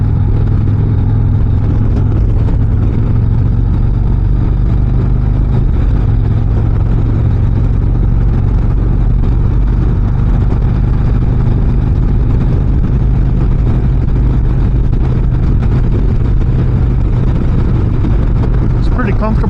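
A 2025 Harley-Davidson Street Glide Ultra motorcycle cruises on a cold scenic ride, its engine giving a steady low rumble mixed with wind rush throughout, while a rider's voice talks over it.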